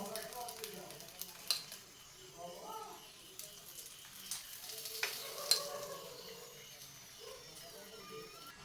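A double chapati paratha fries in oil on a pan with a soft, steady sizzle and a few sharp pops, quiet and close, with faint voices murmuring beneath.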